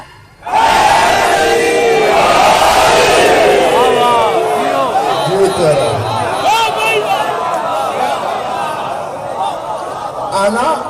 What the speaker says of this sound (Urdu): ملک دونوں ہاتھ بلند کر کے پوری طاقت سے نعرے کا جواب دے گا